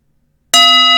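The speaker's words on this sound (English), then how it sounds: "The bell has been rung." A struck bell rings out after a half-second of silence, one sudden bright strike that leaves a steady, shimmering tone sustaining loud and close.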